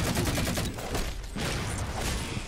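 Loud, rapid bursts of gunfire in the Halo 4 Regicide match, a dense volley up front, a brief lull, then more shots.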